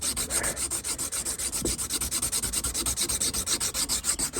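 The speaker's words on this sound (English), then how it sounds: "I just need to sand this down enough so I can get one more thread on" Sandpaper is worked back and forth over a threaded pipe end during a plumbing job, producing quick, even rasping strokes in a steady rhythm, close and continuous.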